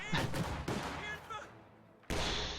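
A flak emplacement firing in a strategy video game: a few sharp bursts of gunfire, then a gap and another burst. Someone talks over the shots.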